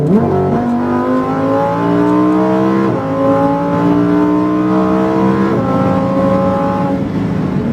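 Lamborghini STO engine accelerating hard on a race track, loud and close, its rising pitch climbing through gears with two sharp upshifts, continuous high-revving roar throughout.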